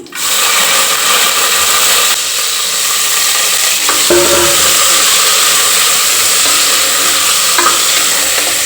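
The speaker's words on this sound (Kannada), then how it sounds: "ಎಣ್ಣೆ ಕಾದಿದೆ ಇವಾಗ ಬದನೆಕಾಯಿ ಹಾಕ್ತಾ ಇದ್ದೀನಿ" Eggplant pieces dropped into hot oil fry with a loud, steady sizzle that fills the whole stretch, with stirring and scraping clatter at a few points.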